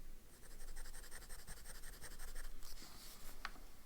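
A Pro Gear fountain pen with a medium nib scratching softly across paper in steady strokes, close and quiet, with a few sharper scrapes near the end and no voices.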